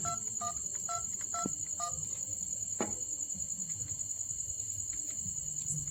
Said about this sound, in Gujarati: ભૂપતિયાને ફોન કરવા ગયો